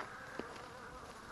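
A dense, steady buzz of about 10,000 honey bees being installed from a package into a hive, close and continuous, with one brief louder flick partway through.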